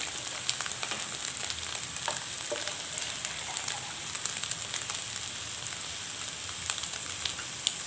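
Sizzling and frying in a pan of seblak with meatballs and chicken feet as water is added, a steady crackling hiss at moderate level with no talk.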